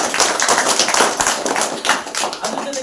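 Loud, dense clapping from an audience at a school gathering honouring teachers, with students and parents present; the sound holds steady for about three seconds.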